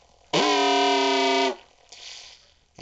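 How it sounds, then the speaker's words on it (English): A wearable Cyberman voice changer kit with distortion added turns a voice into a single loud, buzzy, robotic burst lasting about a second, followed by faint background noise and a brief swell at the very end. "Let's just add a bit of distortion."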